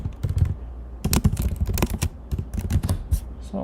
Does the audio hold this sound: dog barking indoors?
no